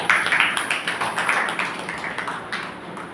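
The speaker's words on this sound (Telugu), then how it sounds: "గట్టిగా చప్పట్లు కొడదామండి" A church congregation at Sunday worship claps loudly together, a dense, steady wash of many hands filling the room with a rapid, continuous patter.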